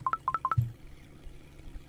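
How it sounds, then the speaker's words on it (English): Fishing bite alarm bells in Russian Fishing 4, heard as a quick run of six short, bright electronic chimes in a row, then a faint low thump and quiet background. "I hear the bells ringing."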